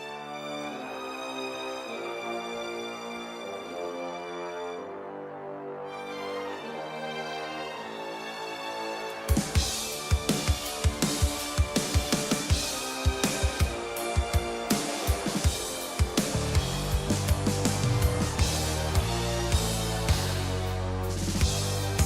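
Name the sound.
orchestral strings in a music production mix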